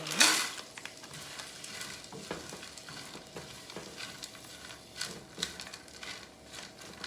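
Vegetables for ramen cook in a pan with a soft, steady sizzle, broken by occasional utensil taps and scrapes. A sharp burst at the start rises above the quiet frying, and no voices are present.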